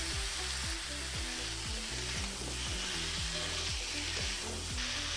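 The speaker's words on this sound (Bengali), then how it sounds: "মশলার সাথে কুমড়ো ভালো করে কষাবো" Pumpkin sautéing with spices in a hot pan for a fish-roe curry, a steady loud sizzle and fry throughout with repeated scraping strokes of a spatula stirring the pieces.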